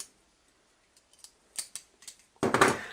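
Scissors on a Leatherman multitool are handled, a series of faint, close clicks and snips building to a louder metallic rattle at the end.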